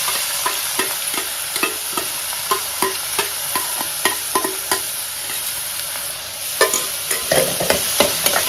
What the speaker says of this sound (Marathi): गॅस बारीक करायचं आणि कांदा टाकायचा